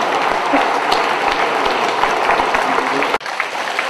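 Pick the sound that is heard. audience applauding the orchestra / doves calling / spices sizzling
audience applauding the orchestra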